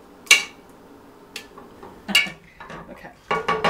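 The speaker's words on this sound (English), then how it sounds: "you want to sort of mush the Dahl up a little bit" Cooked dal being mashed in a pot with a metal utensil, a few irregular clanks and scrapes against the pot with short gaps between them, close and with no talk.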